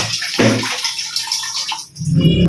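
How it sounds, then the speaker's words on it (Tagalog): Water rushes from a household tap in a steady, hissing stream, with a few knocks and a brief drop in the flow before the splashing resumes. "Patayin ko muna itong tubig."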